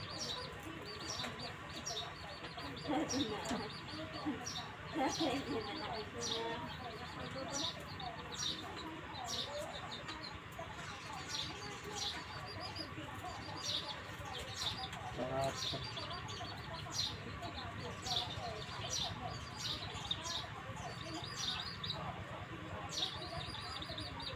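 A large chicken clucks and chirps repeatedly in short bursts at a rural home, moderately close, with people's voices talking underneath throughout.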